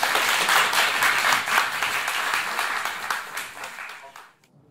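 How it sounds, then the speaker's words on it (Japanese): Audience at a jazz festival concert applauding a band, loud dense clapping that tapers off and ends abruptly near the close. "大きな拍手を。"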